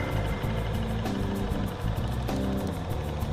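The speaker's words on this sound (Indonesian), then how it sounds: "Mesin saya nyalakan di sini." An engine on a test rig, treated with Amos Metal Coat liquid additive, runs close by with a steady low idling rumble and regular pulsing beats throughout.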